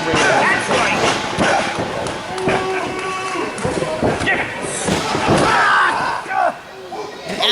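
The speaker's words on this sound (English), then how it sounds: "absolute savage chair shot to his leg" A steel chair slams hard against a wrestler's leg during a no-referee indie match, one heavy thud amid a roaring crowd and loud ringside commentary.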